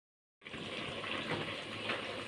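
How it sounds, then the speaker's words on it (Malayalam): Water pours steadily into a pot of chopped jackfruit after a brief silence, a continuous soft gushing splash close by, fairly quiet and without talk. "നമുക്കിതിന് ഇതിലോട്ട് വെള്ളവും ഒഴിച്ചു കൊടുക്കാം കേട്ടോ."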